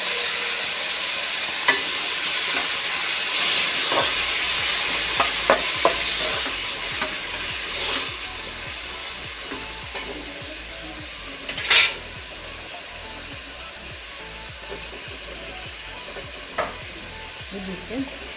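Tomatoes, garlic and ginger frying in a pan, a steady close sizzle with scattered clinks and scraping stirs throughout, no voices.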